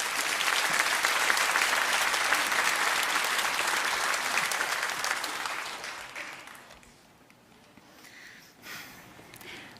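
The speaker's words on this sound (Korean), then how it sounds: "큰 박수로 그렇게 맞이해 주시면" A church congregation applauds warmly for a young woman coming up to give her testimony, loud sustained clapping filling most of the moment before it fades to near quiet, with a faint sniff at the end.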